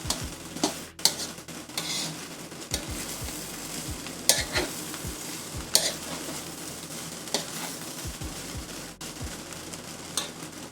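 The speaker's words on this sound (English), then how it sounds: "Just making sure to scrape the bottom of that pan." Pork fried rice with plenty of rice and soy sauce being stirred and scraped across the bottom of a pan, a steady sizzle broken by repeated scraping strokes and occasional sharp utensil clicks, close up with no talking.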